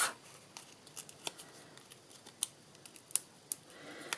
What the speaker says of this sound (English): And then just peel my backings off.